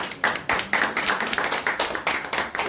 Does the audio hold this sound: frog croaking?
no